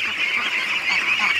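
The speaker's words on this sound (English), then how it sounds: "when you want to let a ton of ducks out of a little hole" A large flock of ducks let out of a barn through a small opening quacks in a dense, continuous, overlapping chorus, loud and close throughout.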